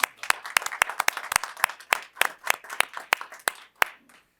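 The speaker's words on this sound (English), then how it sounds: "let's give them a round of applause" A small group claps for a few seconds at a school board meeting, with sharp, uneven individual claps that thin out and fade at the end.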